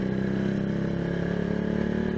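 Motorcycle engine revving steadily up toward about 4000 rpm while riding, a continuous loud mid-pitched drone with a harmonic whine, close to the microphone and with no talking.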